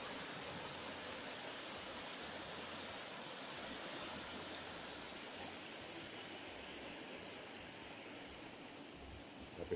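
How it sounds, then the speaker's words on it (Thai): A year-round stream flows steadily, with a continuous, soft broadband rush of water and no voices. "ก็จะเป็นลำธารนะครับลำธาร"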